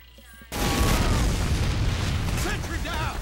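Sentry gun blown up in Team Fortress 2, a sudden loud boom that cuts in and leaves a sustained rumbling roar, with faint game voices in the background.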